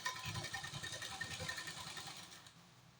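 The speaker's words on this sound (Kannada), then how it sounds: "ಆ ಹೊಲಿಗೆ ಮೇಲೆ ನೀಟಾಗಿ ನಾವು ಹೊಲಿಗೆ ಹಾಕೋದಿತಾ ಹೋಗ್ತೀವಿ" A sewing machine stitches a fall onto a saree, its motor running in a steady rapid whirring rattle for a few seconds before slowing and fading at the end, close and alone.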